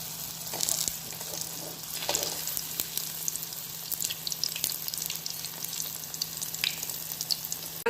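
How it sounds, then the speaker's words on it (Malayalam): Jackfruit seed vadas fry in hot coconut oil, giving a quiet, steady sizzle with scattered small pops and crackles throughout. "ഇനി നമുക്ക് ഓരോ വട ഇതിലേക്ക് ഇട്ടിട്ട് പൊരിച്ചെടുക്കാം."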